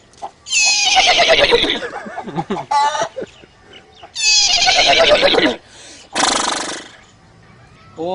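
A man vocally imitates a horse neighing, producing three loud, close whinnying bursts. The first two are long and shaky, and the third is shorter and rougher, with brief pauses between them.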